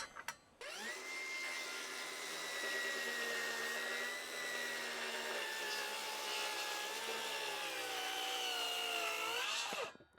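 A Milwaukee power saw fitted with a DeWalt blade cuts steadily for about nine seconds, a loud, continuous high whine that holds nearly level before winding down at the end, with no talking.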